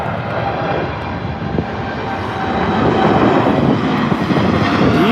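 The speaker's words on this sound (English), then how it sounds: "Beautiful aircraft." An aircraft taking off at Birmingham airport: a loud, broad jet engine roar that holds steady and grows slightly stronger toward the end, heard without any talk.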